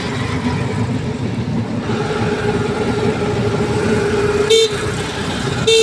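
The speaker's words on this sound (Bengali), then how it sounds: "গাড়ির শব্দটা একটু দেখুন।" Car engine hum on the road with a fast driver weaving past smaller vehicles, steady engine drone throughout and two short, sharp horn honks near the end, close and loud.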